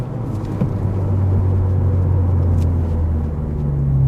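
A Honda Civic Si engine hums in a steady, fairly loud drone while downshifting, and its pitch steps up near the end as it rev-matches.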